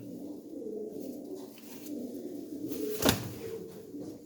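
Pigeons of the Apolyon breed coo in low, soft, rolling phrases close by, with a sharp knock or door-like clack partway through and otherwise no voices.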